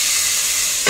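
Continuous hissing sizzle of spices tempering in hot oil for kadhi pakoda, close and steady, swelling louder in the final moment.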